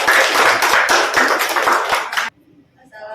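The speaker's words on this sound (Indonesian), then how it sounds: "Beri tepuk tangan." Indonesian classroom audience after a group presentation gives a short burst of quick, dense hand clapping for about two seconds, then it cuts off into near silence with faint sound at the end.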